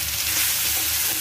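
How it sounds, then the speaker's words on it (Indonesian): Chicken satay spice paste fries in hot cooking oil in a pan, a steady, close, bright sizzle with no talking over it. "Tuang 3 sendok makan minyak goreng, kemudian kita masukkan bumbunya ya."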